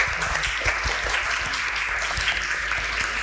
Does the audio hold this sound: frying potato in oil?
no